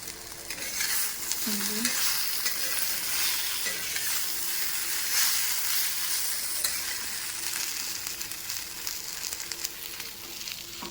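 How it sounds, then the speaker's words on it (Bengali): Okra (bhindi) fries in a pan with a constant close sizzle, with faint stirring scrapes throughout. "এখানে ভেন্ডি মোটামুটি ভাজা হয়ে গেছে।"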